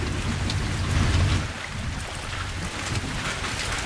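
Steady rain pouring down in a dark horror video game, a dense close hiss of falling drops with a low rumbling undertone, no speech.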